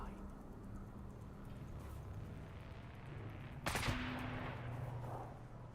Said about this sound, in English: I don't know who's shooting at me.